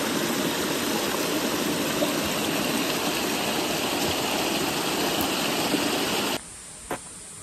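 Flowing water at Rainbow waterfall in Daringbadi, a dense, loud, steady rush that fills the scene and then drops off abruptly near the end.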